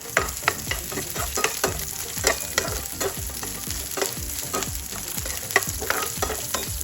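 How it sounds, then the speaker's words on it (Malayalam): Shallots, garlic cloves and black pepper sauté in a pan, a steady sizzle broken by repeated scraping stirs of a spoon, close and fairly loud, with no talk. "പിന്നെ ഒരു 7 അല്ലി വെളുത്തുള്ളിയും 1/2 ടീസ്പൂൺ കുരുമുളകും കൂടിയിട്ട് ഇത് നന്നായിട്ടൊന്ന് വഴറ്റിയെടുക്കാം."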